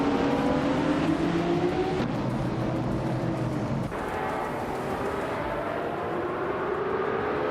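Racing cars roar through a racing video game, including a classic 1971 Porsche 917 LH in the 1970 prototype class, with a steady loud engine drone whose pitch rises and shifts as gears change, and no talk.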